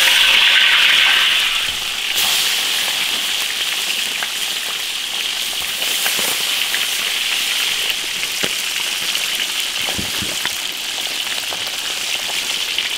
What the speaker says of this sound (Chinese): 油热下鱼。